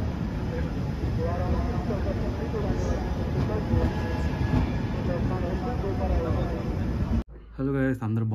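A train moving at good speed, seen from inside a carriage: a steady close rumble with rhythmic wheel clatter, then a sudden cut to a person talking over quieter background.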